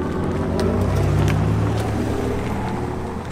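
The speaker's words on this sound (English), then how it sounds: "you can kind of tell, there it goes, the car's about to drive off" An Audi e-tron Edition 1 launch-edition electric car pulls away, playing its artificial drive sound. It is a steady, close, fairly loud low hum with layered tones that swell slightly and then ease off, with no talking.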